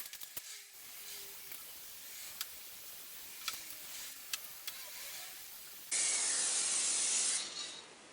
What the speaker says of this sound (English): Now I will use the sealing spray, which is based on wax, and I will cover the fender with it